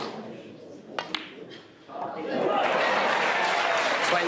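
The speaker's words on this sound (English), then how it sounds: "They're cheering on the comeback." Snooker crowd at the 2024 World Championship final cheering and applauding, a few sharp claps then a loud sustained wave of applause filling the hall, with commentary talk underneath early on.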